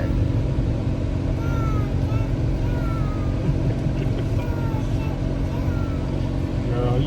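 An aluminum boat's outboard motor runs steadily on a lake, a continuous close drone with wind noise and people chatting over it.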